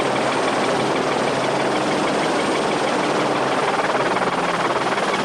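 Helicopter at the 1993 Pharaohs Rally Raid, a steady, loud broadband rotor and turbine roar held continuously at close range throughout, with no voices.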